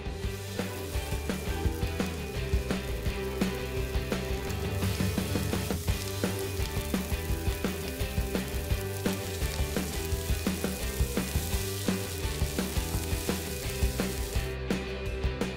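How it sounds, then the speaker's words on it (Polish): Continuous loud sizzling of meat frying in a hot pan, steady and crackling throughout, with no voices. "Smażę 2 minuty z każdej strony."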